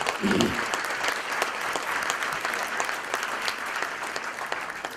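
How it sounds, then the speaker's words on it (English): A conference audience at a statewide social entrepreneurship event gives a dense, steady round of applause that continues at an even level for the whole stretch. "I think they deserve a big round of applause"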